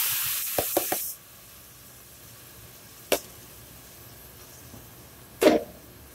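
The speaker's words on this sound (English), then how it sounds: "So I'm going to go ahead and throw my shrimp in here." Raw shrimp thrown into a hot sauté pan give a short, loud hissing sizzle that quickly settles to a quiet, low background with a few faint clicks and pops.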